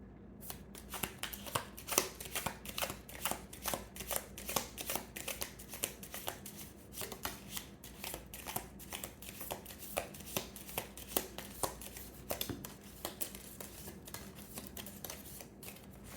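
Rapid, crisp riffling and slapping of a deck of tarot cards being shuffled repeatedly at close range, in quick irregular bursts.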